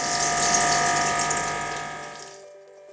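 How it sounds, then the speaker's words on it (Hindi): Chicken popsicles fry in hot oil. A bright, continuous sizzle and hiss runs over a faint steady hum, then gradually fades away to quiet near the end. "अब इन्हें मैं फ्राई कर लूँगी"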